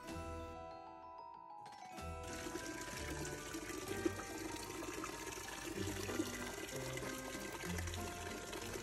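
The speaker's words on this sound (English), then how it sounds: "That's how I made my cauldron water feature. I love the way it sounds in my yard all October." Water trickles and splashes steadily in a homemade Halloween cauldron fountain in a yard, a continuous soft babble after a brief quieter start.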